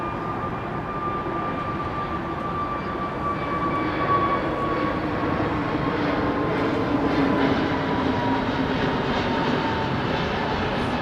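A TAP Airbus A320neo airliner departing London Heathrow produces a steady, moderately distant jet roar with a faint whining tone drifting slowly downward and slightly swelling midway, no voices.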